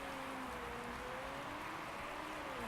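Steady rain hiss from the racing game Motorsport Manager, a dense, even wash holding at a constant level with a faint tonal engine-like hum beneath and no voices.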